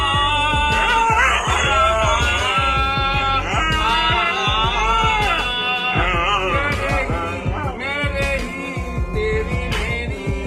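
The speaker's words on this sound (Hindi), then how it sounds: "हमारे वफादार कुत्ते अब घर की रखवाली करने की जगह नाचने और गाने भी लगे हैं।" A dog howling in a long, wavering, sing-song voice, loud and close, with sustained tonal howls continuing through the whole stretch.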